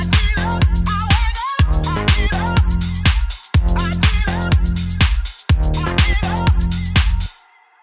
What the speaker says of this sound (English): It's just a beat, a bass line, and a vocal sample.